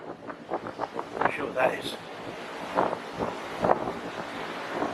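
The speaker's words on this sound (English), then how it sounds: "It's hard to bend down without the wind blowing you over." Strong wind buffets the microphone on an open beach at Half Moon Bay, gusting in uneven bursts under a man's close speech.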